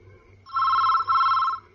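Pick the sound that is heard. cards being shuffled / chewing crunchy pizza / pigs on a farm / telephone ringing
telephone ringing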